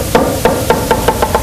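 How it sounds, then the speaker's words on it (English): A drumstick bounces on a drum in a roll exercise, with sharp taps that come quicker and closer together, going from big bounces to small ones, near and clear. "Once again, the drumstick bounces like this."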